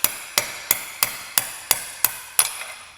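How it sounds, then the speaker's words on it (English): Eight sharp metallic hammer blows, evenly spaced and ringing briefly, as a driver is struck to knock a worn bushing out of a Wico magneto for a John Deere engine. "I'm gonna do is remove this bushing that is inside here. I have a driver that's just the right size for this bushing"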